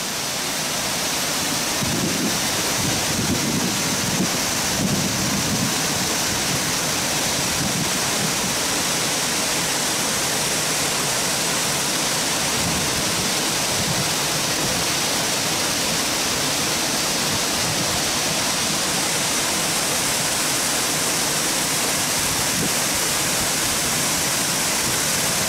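A waterfall at Thousand Springs rushes in a continuous, loud, broadband roar of falling water, heard up close with no voices and only slight shifts in intensity throughout.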